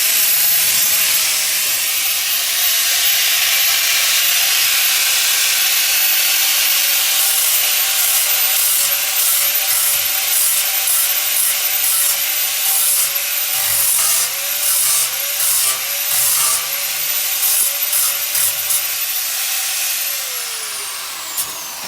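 A repaired aluminium diesel tank from a catamaran is sanded with a power sander, a loud steady abrasive hiss and whine holding throughout at close range, with no voices.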